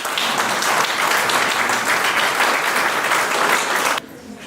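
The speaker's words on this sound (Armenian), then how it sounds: "Բերեք ծափահարենք։" A large audience applauds loudly and evenly at a poetry evening, the dense clapping holding steady for about four seconds before cutting off abruptly into quiet room noise.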